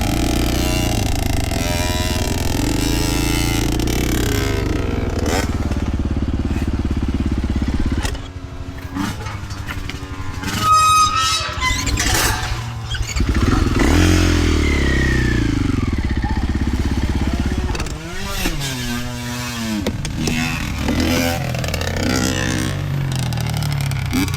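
A small two-stroke engine running a 32:1 fuel-oil mix runs loudly and steadily, then revs up and down with buzzy, rattling bursts and brief drops in pitch.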